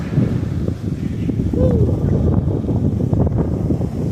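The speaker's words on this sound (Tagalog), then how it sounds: "Pansin nyo, lakas ng hangin talaga." Heavy wind buffets the microphone outdoors in a continuous low roar, loud and close, with a voice faintly present underneath.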